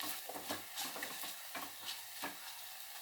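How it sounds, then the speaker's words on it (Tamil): Orange peel mixture for gotsu slowly sautéed in a pan, with soft, low sizzling and intermittent stirring scrapes at a steady unhurried pace, fairly quiet and close, with no voices. "கொஞ்சம் நேரம் ஸ்லோவிலே வச்சு வதக்கணும்."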